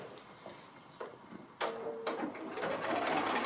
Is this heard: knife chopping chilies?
no